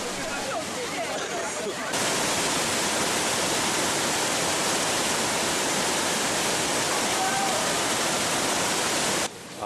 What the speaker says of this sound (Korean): 다음 이동한 곳은 바니아스 폭포. 여기가 이스라엘이 맞나 싶을 정도로 엄청난 양의 물이 쏟아져 나오고